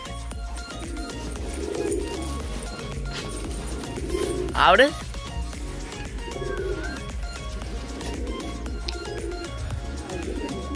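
Soft pigeon coos repeat at a steady pulse under a noisy outdoor background, with a person speaking briefly and a sharp chirpy burst midway.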